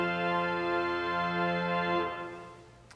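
Holtkamp pipe organ in a church, swell division with all stops combined, sounding a loud, rich sustained chord that holds steady for about two seconds before releasing into a short reverberant fade.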